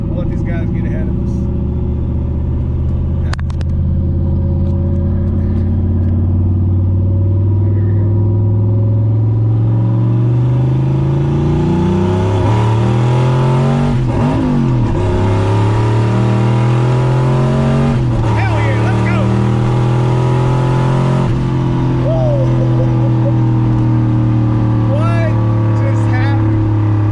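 A Foxbody Mustang with a GT40 turbo engine accelerates from inside the car, a loud droning exhaust rising and dipping through gear changes while people talk over it.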